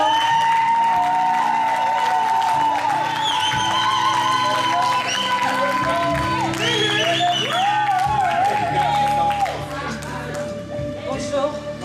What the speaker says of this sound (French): La sœur Lorraine, sous vos acclamations.